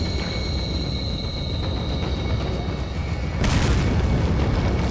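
Grenade blast in Resident Evil 4, a heavy boom bursting out late in the clip over a dense rumbling background of gameplay noise.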